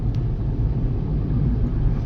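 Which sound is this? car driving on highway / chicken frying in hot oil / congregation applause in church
car driving on highway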